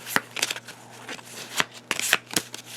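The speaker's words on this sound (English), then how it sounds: "So I'm going to shuffle up her discard pile and give her an extra card for next round." A discard pile of cards from the Hero Realms deck-building game is shuffled by hand, a series of quick, close riffling bursts and soft snaps over a faint steady hum, with no talking.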